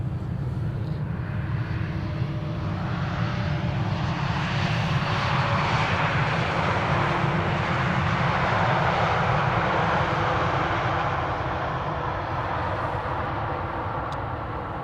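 A Boeing 787-9 Dreamliner airliner, eight years old, arriving at Amsterdam Schiphol Airport on a sunny winter day gives a steady, broad engine roar that swells and holds loud through the whole pass, then eases slightly near the end.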